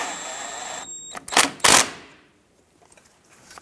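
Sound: ratchet tightening caliper bolt with 11 mm socket

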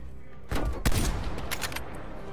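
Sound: gunshots in the video game Call of Duty Black Ops Cold War

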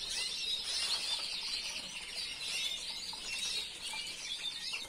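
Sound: small caged birds chirping and flapping

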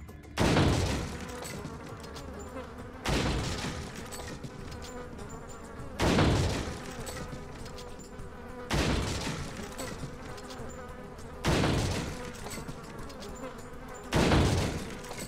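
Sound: insects buzzing in the video game Resident Evil 4

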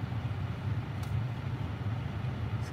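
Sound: car heater running inside parked car

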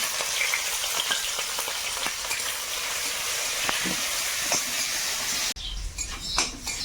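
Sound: frying black cumin, green chilli, onion and garlic in oil

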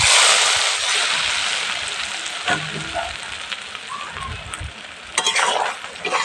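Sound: hot oil tempering added to beef kala bhuna, sizzling

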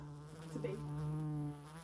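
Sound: fly buzzing, stuck on a bench

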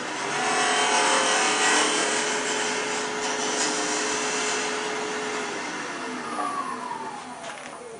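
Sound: wood lathe turning a tenon on an awl handle

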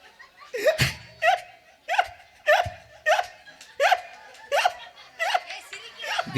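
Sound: person imitating a dog

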